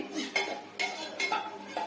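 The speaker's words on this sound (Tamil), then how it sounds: "இந்த அரிசி மாவோடையே போட்டு நான் கரைச்சி விடுறேன்" A utensil stirs a rice flour mixture in a cooking pot, giving four scraping, clinking strokes at a steady rhythm, close and fairly loud, with no talking.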